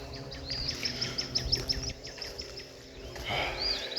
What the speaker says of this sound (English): the only sounds are of, you know, birds chirping, of bugs, and, you know, of this creek that's just flowing